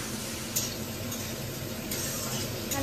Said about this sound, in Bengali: হচ্ছে আলু ভাজা